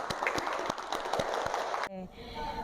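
Studio audience clapping for a guest at the close of an Indonesian talk podcast, a short burst of scattered claps that cuts off abruptly into an outro jingle.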